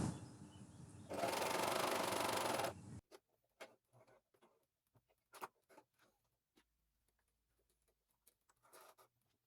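A Juki coverstitch machine runs a reverse cover stitch in one loud, steady burst of about two seconds, then stops, leaving faint scattered clicks and handling taps.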